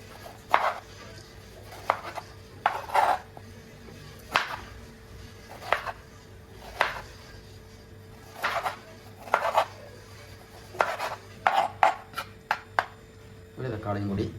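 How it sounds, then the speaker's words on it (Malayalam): A tomato being chopped finely on a board, a slow irregular series of crisp knife knocks, about a dozen, fairly close, with a brief clatter at the end. "നല്ല ചെറുപടിയായി അരിയാം"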